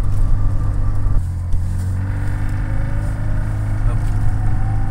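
A 2019 Chatenet CH40 Sportline licence-free microcar on the move, its small engine giving a steady low droning rumble inside the cabin, with a brief shift partway through and people talking over it.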